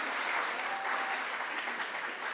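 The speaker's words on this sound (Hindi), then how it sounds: "एक बार जोरदार तालियां हो जाए इन सभी के लिए।" Applause fills a birthday celebration for Fr. Francis at Nav Sadhana, Varanasi: a soft, continuous wash of many hands clapping at a distance, without any speech.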